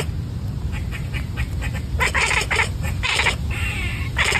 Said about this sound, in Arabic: يمكن للقطط أحياناً إصدار أصوات تشبه صوت الدغدغة